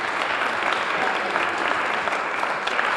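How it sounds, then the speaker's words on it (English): Sustained audience applause at a district-wide school art show, dense and steady clapping from a crowd filling the full three seconds at an even, close level. "I want to give them a round of applause for the buildings that they've made upstairs."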